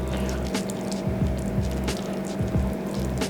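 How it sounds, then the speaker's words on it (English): Macaroni and cheese being stirred and smoothed in a pot, giving soft, wet squelching and squishing sounds over a steady low kitchen hum, with no talking. "That undeniable macaroni and cheese sound."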